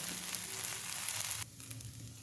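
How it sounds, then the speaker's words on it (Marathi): Dosa batter sizzles on a hot, well-seasoned iron tava, a soft steady crackle close by that drops in level partway through, with no talking. "एकदा का तवा तापला की मस्त कुरकुरीत आणि अगदी भरभर डोसे तयार होतात"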